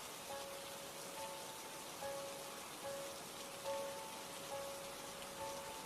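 Steady rain falling on a surface during a thunderstorm, a constant wash of hiss with a faint tone drifting in and out, no voices.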